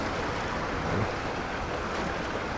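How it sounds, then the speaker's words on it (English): Treated clean water pouring out of a wastewater treatment plant, a loud, steady broadband rush like surf with wind buffeting the microphone, continuous and close, no voices. "That's the water going out that is clean."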